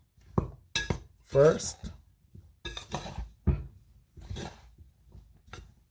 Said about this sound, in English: So I'm just mixing it dry